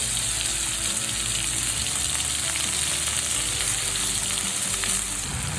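Turmeric soaked in water, ginger and dried chilli paste hits hot oil while cooking a prawn and potato curry, giving a steady, loud sizzle with a watery hiss that runs throughout without pause.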